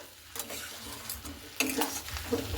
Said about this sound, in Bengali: চিনিটা দিয়ে হালকা করে একটু আবারও নাড়াচাড়া করে নিলাম